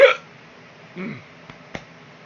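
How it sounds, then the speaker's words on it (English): One sharp hiccup sounds at the start, close to the mic, followed by a soft vocal sound and a couple of faint clicks in a quiet room. "I'm fighting the hiccups, but they're winning"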